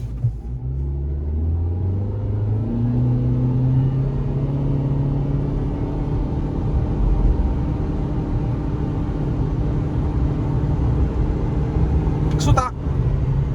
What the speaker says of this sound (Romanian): Piciorul pe frână, hai să vedem. Accelerația 1500 și acum blană.